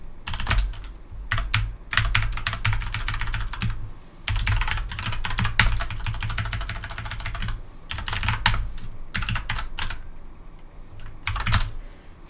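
Someone types on a computer keyboard in fast, close bursts of clicking keys, pausing briefly between runs, with no voices.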